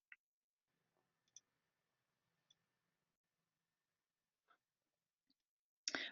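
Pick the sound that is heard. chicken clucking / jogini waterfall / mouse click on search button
mouse click on search button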